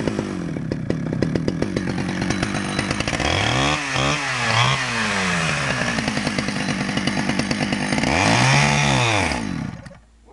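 A Stihl chainsaw cuts wood close up, loud and continuous, with its engine revving and bogging in several waves as the chain works through the log before it cuts off.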